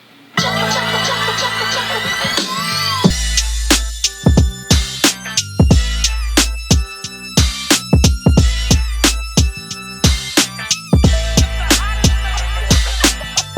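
A punchy old-school hip hop beat with heavy kick and snare hits in a steady groove over a looping melodic sample, no vocals.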